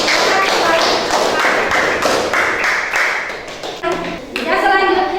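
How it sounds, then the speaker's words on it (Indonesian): Classmates clap in a classroom after a Quran recitation, a steady dense patter of many hands lasting several seconds, fairly loud and close, then thinning as a voice speaks near the end. "tepuk tangan buat Nindi."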